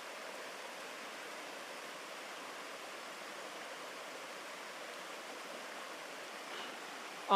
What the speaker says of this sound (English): we sit by the river, and I'll let you listen to the sounds of nature